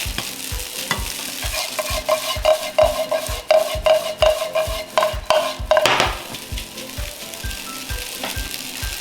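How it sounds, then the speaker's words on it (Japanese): Garlic stir-frying in a wok for Jinhua ham fried rice: a rapid, regular series of metallic ladle strikes and scrapes over a loud sizzle, close up, with a ringing tone partway through and no speech. "焦げないように注意しながらゆっくりと炒めていきます"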